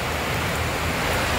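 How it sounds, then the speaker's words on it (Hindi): Heavy rain pours down steadily, a dense, loud, unbroken hiss that fills the whole moment without any voices. "ये देखिए आज यहाँ बहुत ज़्यादा बारिश हो रही है"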